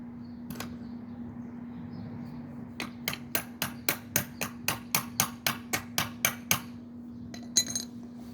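Light hammer taps on a part of a 1966 3hp engine, a steady run of about fifteen sharp metallic knocks in quick rhythm after a single early tap, close and clear over a faint constant hum.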